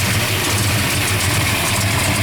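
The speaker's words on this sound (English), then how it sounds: "This thing will just sit there and idle like this all day. It just thumps, don't it?" A 1967 Hemi V8 idles steadily up close, a loud, thumping low rumble that holds an even rhythm throughout with no speech.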